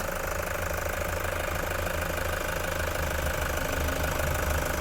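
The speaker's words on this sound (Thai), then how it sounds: "เครื่องยนต์ดีมากนะคะ ฟังเสียงเครื่องยนต์ได้เลยค่ะ" A 2014 Toyota Commuter van's 3.0 litre diesel engine idles steadily with a low, even rumble and faint ticking, heard up close from the engine bay with no talking.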